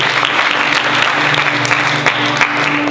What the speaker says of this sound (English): Would you give them an applause for how great they did after?